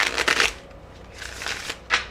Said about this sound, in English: when I shuffle my deck, I always look at the cards when I split